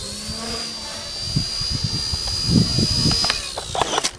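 A WL Toys V931 AS350 RC helicopter flies inverted, its small rotor and motor giving a steady high-pitched whine throughout, with thumping low bursts toward the middle and end.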